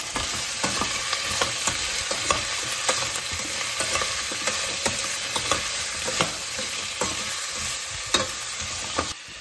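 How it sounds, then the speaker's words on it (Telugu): Vegetable pieces for sambar, seasoned with salt and turmeric, are stirred as they fry in a pan, giving a steady close sizzle with regular scraping strokes of the spoon throughout, and no voices. "ఇప్పుడు ఈ పీసెస్లో కొంచెం సాల్ట్, కొంచెం టర్మరిక్ వేసి మొత్తం కలపాలి."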